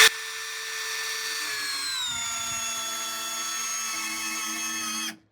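A Hanabi LJ2022 cordless drill with hybrid chuck bores with a 19 mm four-point bit, a steady loud whine that drops in pitch midway under load, then cuts off abruptly after about five seconds.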